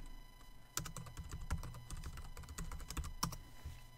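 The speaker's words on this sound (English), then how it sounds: "I'm going to pop open a command line and type in this command." Fingers type on a Mac computer keyboard, a quick run of close, crisp key clicks with a few heavier taps, alone in a quiet room.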